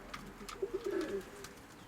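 A pigeon coos softly several times in a short low rolling phrase, close but quiet, with faint background noise around it.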